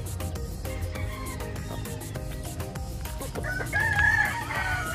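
Backyard pet chickens in a coop, with a rooster crowing loudly near the end over a steady, busy background.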